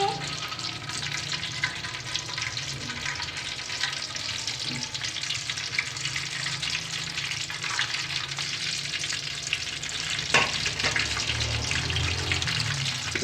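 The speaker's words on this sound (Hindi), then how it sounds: "तेल हमने गरम कर लिया है, अब हम इसको फ्राई कर लेंगे।" Chicken egg cutlets frying in hot oil, a steady crackling sizzle running throughout with occasional clinks and light handling sounds, moderately close and without speech.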